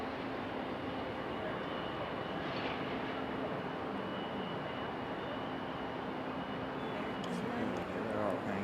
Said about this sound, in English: Oh, once that Cessna took off.